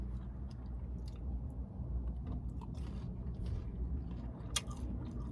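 Close, soft crunching and chewing of fried Peruvian chicken, a steady run of muffled bites with one sharper crunch near the end, no speech.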